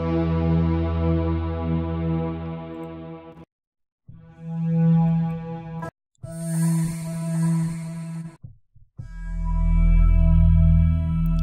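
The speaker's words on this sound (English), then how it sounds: "see what the pads sound like." Synth pads from a beat being built in Reason 10, sustained rich harmonic chords ringing alone in several long swells broken by brief silences, the last one low and loud.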